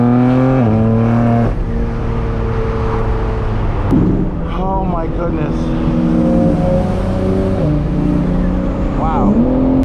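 BMW G8X with an aftermarket exhaust revs hard on a back road, the engine note climbing and dropping through loud repeated pulls and gear changes, close and continuous, while a man exclaims over it.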